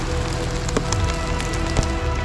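Steady rain falls on a surface outdoors, a dense, continuous hiss with scattered louder drops, close and fairly loud with no voices.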